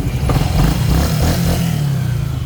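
A small Honda Click scooter engine runs close by after a crankshaft replacement, its motor humming and rattling at a steady idle with slight revving.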